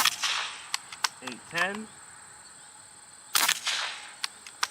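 Beeman Raider air rifle fired on a shooting range: sharp, snappy shots spaced irregularly, a cluster early on and more near the end, with a man calling out numbers between them.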